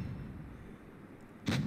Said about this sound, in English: That was a massive shot into Zerd there